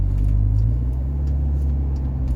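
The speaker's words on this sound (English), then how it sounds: "Now if we set off in a normal motion, indeed no sport mode whatsoever" A car with a gearbox pulls away from a stop in its normal driving mode, no sport setting; a steady low engine rumble holds close and even throughout, with no voices.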